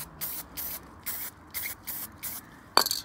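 An aerosol spray can coats the white rear mudguard of a vintage Sparta three-speed Dutch bicycle in six short, even hissing bursts with brief gaps between them, ending in a sharper rattle.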